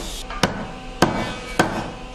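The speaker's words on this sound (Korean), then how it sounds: "나무를 재단하고 사포질을 하고 또 망치질을 하느라" Hammer blows ring out in a traditional furniture factory that makes joined wooden furniture, three sharp strikes spaced about half a second apart over a steady workshop hum, close and fairly loud.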